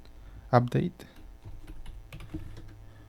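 Rapid keystrokes on a computer keyboard as terminal commands are entered on an Ubuntu server, a short close burst of clicks followed by quieter scattered taps.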